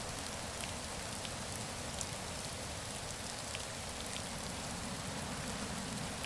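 Steady rain in the voxel survival crafting game Rising World, a constant even hiss of falling drops with scattered soft patters on surfaces, alone and unbroken throughout.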